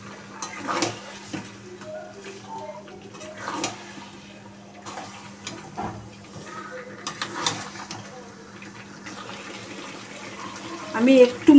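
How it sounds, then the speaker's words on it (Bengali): Spiced water poured into a pan of simmering chicken makes a watery splash and sizzle, fairly quiet and intermittent, with some talking and a louder burst of bubbling near the end. "আমি একটু মশলার জলটা দিয়ে দিই।"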